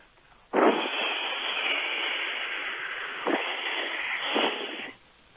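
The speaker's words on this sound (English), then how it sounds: "That's the sound of your head in a toilet." A rushing whoosh of water flushing a toilet, loud and close, with a couple of gurgling surges before it drains away and stops.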